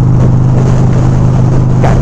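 A Harley-Davidson Sportster 883 motorcycle engine runs on the road, a loud, steady low rumbling drone that holds constant throughout, with no talk over it.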